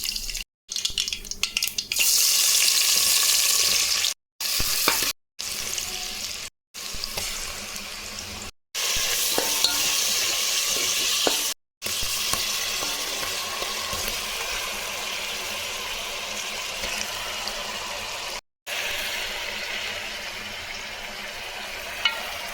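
Mustard seeds crackle in hot oil, tempering for a country chicken curry. A steady, loud sizzle and spatter runs throughout with short breaks, and no voice is heard.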